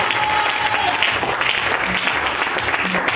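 A church congregation applauds and cheers in praise of Jesus during a Sunday service, a steady, dense wash of clapping that holds at full strength for the whole stretch with no pause.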